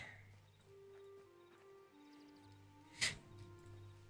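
Horse in the Hytale video game, with a faint neigh and soft clip-clop in a quiet outdoor scene, plus one brief louder burst near the end.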